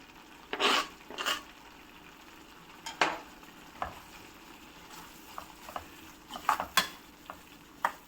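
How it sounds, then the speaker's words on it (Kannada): Chopped coriander and curry leaves stirred into a simmering fenugreek gojju, with scattered scraping spoon strokes against the pot over a faint, steady sizzle. "ಈಗ ಕೊತ್ತಂಬರಿ ಸೊಪ್ಪು, ಕರಿಬೇವಿನ ಸೊಪ್ಪು ಕಟ್ ಮಾಡ್ಕೊಂಡು ಇಟ್ಕೊಂಡಿದ್ದೀನಲ್ಲ, ಇದು ಹಾಕ್ಕೊತೀನಿ"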